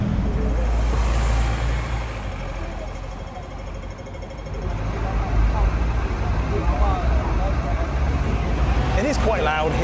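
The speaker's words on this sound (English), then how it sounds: "Literally all the buses make so much noise." Heavy city traffic rumbles along a busy Hong Kong street, with buses and trucks giving a loud, constant low roar that swells as vehicles pass close by, while a person talks over the noise.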